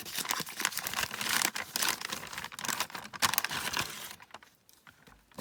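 A large parcel being opened, with close crinkling and tearing of wrapping paper in quick bursts and rustles for several seconds before dropping to near quiet at the end.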